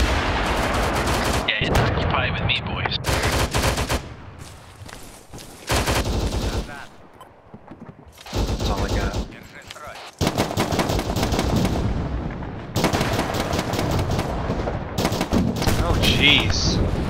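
Bursts of automatic machine-gun fire in the ARMA 3 military shooter game, loud and close, coming in several sustained volleys separated by brief lulls, with scattered single shots and occasional talk between bursts.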